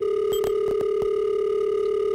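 A steady telephone dial tone hums continuously on an auto-dialer line, loud and unbroken, with a few brief clicks near the start and no voices.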